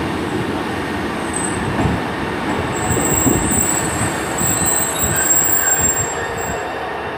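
A train pulls into a platform at Shrewsbury station, its wheels squealing and rumbling steadily nearby, with high metallic screeches riding over the low rolling noise throughout.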